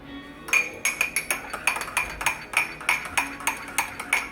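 A spoon clinks against a mug in rapid, regular taps while pumpkin spice is stirred into coffee, sharp metallic chimes that are close and clear.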